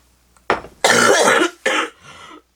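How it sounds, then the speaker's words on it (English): A person coughs several times in quick bursts, close to the microphone, with a short throat-clearing sound at the end. "Hold on one second until I stop coughing"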